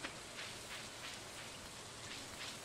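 Steady rain from the video game Stardew Valley, a dense, even hiss of falling drops that holds at a constant level for the whole stretch with no talk over it.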